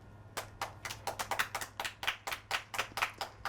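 Hands clap in a quick, steady rhythm, around a dozen sharp claps in a row, close and fairly loud over a low hum, with no talking.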